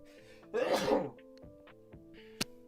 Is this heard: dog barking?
no